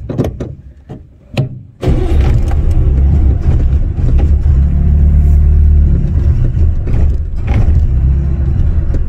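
A vintage car engine catches after a few brief cranks and keeps running in a loud, close, rough steady rumble with slight rises in pitch.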